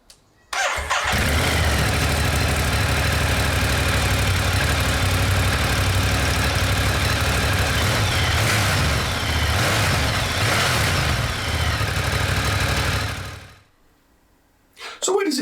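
A Ducati Monster 1200 S naked bike with an aftermarket exhaust can starts up and idles, a steady, fairly muted engine burble close by that runs for about thirteen seconds before cutting out.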